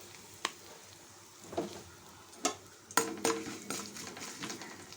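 Curry leaves, asafoetida and tempering spices frying in a pan for a drumstick-leaf chutney. Sparse clinks and spoon taps come first, then a sharper crackling sizzle with stirring in the last couple of seconds.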